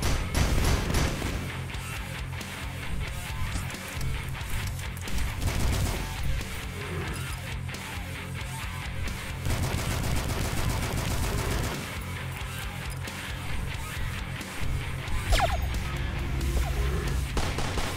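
Mortar launcher fire in the first-person shooter Dusk, loud repeated blasts and crashing impacts amid dense, continuous game combat noise and music.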